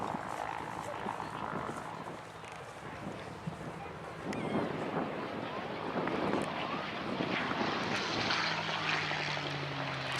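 A North American P-51D Mustang propeller plane drones steadily at an air show in Dayton, with a broad, rumbling engine roar and wind buffeting, swelling slightly louder toward the end.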